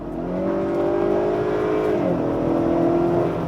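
A 2021 Honda Accord in sport mode pulls hard, its synthetic engine note droning steadily inside the cabin, then dipping briefly at a shift before climbing again.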